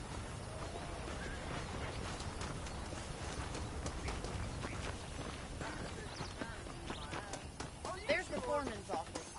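Horse hooves clip-clop in Red Dead Redemption at a steady walking pace, a continuous mid-level rhythm through the whole stretch with game ambience around it and a few sharper sounds near the end.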